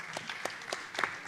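An audience at an assembly claps briefly, with scattered, uneven claps that sound a little distant and thin out within about a second.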